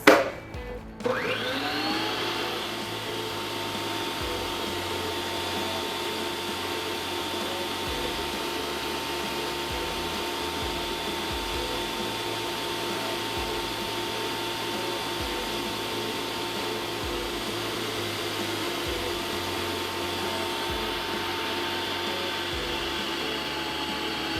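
An electric mixer beats white butter cake batter in a bowl, giving a steady, loud motor drone that runs continuously and alone after a brief start.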